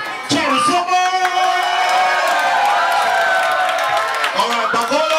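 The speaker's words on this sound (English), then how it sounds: "give it a round of applause for Cherry Summers!" A crowd cheering and applauding for Cherry Summers at a live party event: loud sustained whoops and shouts, with an amplified voice calling out over the noise.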